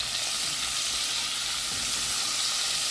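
Pot roast browns in a cast iron Dutch oven over fairly low heat with garlic, giving a steady, soft continuous sizzle and crackle with no talking.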